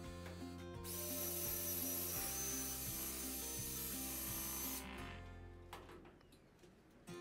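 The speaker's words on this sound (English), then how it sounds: "now what I'm gonna do is make sure those holes match up, drill out these holes" A drill bores holes in a wheel rack, a steady high whine lasting several seconds over a low rhythmic hum, then stopping and leaving some scattered handling clatter, close up with no voices.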